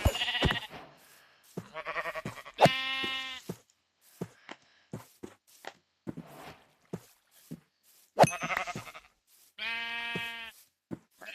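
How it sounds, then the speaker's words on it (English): Minecraft sheep bleat several times in short, separate calls, some loud and close and others fainter, scattered among quiet gaps and soft footsteps. "Just now, ooh, sheep. I hear another one too."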